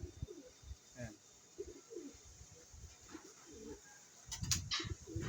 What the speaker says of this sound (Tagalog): Ayan ang ibon natin, oh.